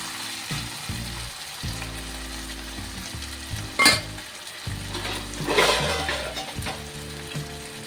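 Chopped tomatoes sprinkled with salt sizzle in a hot pan while a spoon stirs and scrapes them, with a few sharper clinks against the metal, close and continuous, no talking.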